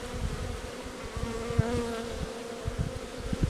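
Steady hum of many honeybees buzzing inside an opened hive during a frame inspection with the queen isolated, a dense droning swarm with occasional louder bees passing close.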